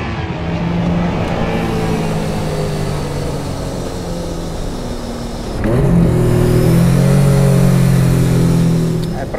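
Honda NSX mid-engine sports car revving from inside the cabin, a steady engine drone that swells louder about halfway through as the revs climb and hold high, with a voice speaking over it.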